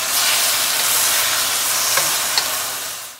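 Leftover grilled chicken mixture seasoned with salt and pepper is stirred while it hisses with a bright, steady sizzle, with a couple of faint utensil scrapes near the end and no talking.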